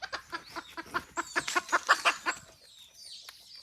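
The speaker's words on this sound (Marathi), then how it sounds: "कोंबडा पण वरटतंय." A rooster at a jungle campsite in Konkan at dawn calls in a rapid run of about fourteen loud, rhythmic pulses that rise and then trail off into a softer drawn-out note, nearby and alone.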